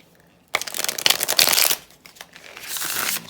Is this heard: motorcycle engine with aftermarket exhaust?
no